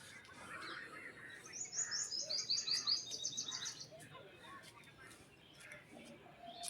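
Small birds chirp in a quiet village, with a brief burst of rapid, high twittering from nearby parakeets over faint background sounds.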